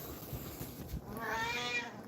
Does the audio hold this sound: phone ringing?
no